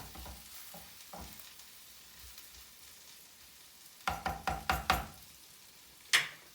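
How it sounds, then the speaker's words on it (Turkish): Tripe and smoked turkey kavurma sizzling in a clay pot under a soft background hiss, then a burst of sharp spoon knocks and scraping against the pot, and a final single loud clack. "Ya bir karıştırayım ben bunu"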